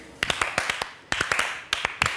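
Studio audience on the Pasapalabra TV game show giving a few quick bursts of applause; sharp, distinct claps in short clusters separated by brief gaps, fairly close and moderately loud.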